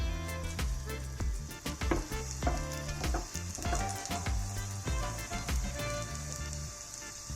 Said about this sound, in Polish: Frytki z manioka umieszczam w gorącym oleju. Smażę je na złoty kolor.